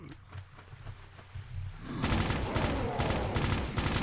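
A submachine gun in the shooter video game Doom 2 lets loose a sustained rapid burst of gunfire that kicks in halfway through, dense and continuous after quieter game noise.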